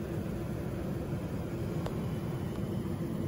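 Steady broadband drone of an airplane cabin in flight, in a business class section with fully reclining bed seats, a constant loud hum with no talk.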